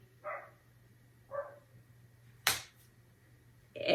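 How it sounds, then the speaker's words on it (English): A dog barks a few separate times, faint and somewhat distant, with quiet gaps between barks and a sharp click near the end. "There's this dog that is just barking while I'm telling you guys this story."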